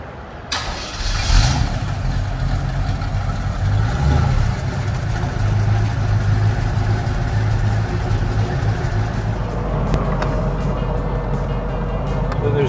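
A 1948 Chevrolet engine cranks and catches, then settles into a close, steady, rumbling idle that runs on evenly, with a voice briefly heard over it.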